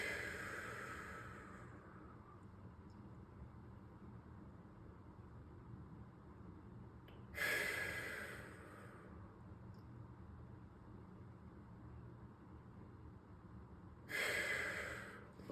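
Breathing exercise breaths, two or three slow deep breaths spaced several seconds apart, each a soft airy rush over a low steady room hum.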